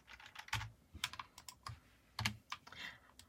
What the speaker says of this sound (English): Simply type a name for your activity.